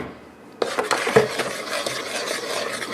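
A spoon stirs dry mix into a bowl of batter, scraping and knocking against the bowl in a few quick, close strokes, with no talking.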